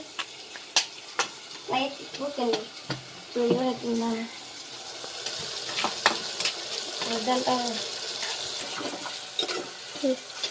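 Tomatoes fry in a pan with a soft background sizzle and occasional scraping stirs, while someone talks over much of it.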